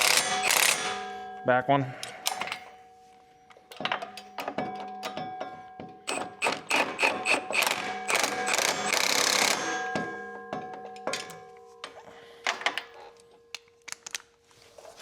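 A ratchet with a swivel in front of the socket works on a compact tractor, giving close bursts of rapid clicking and metallic ringing taps, with brief speech in between.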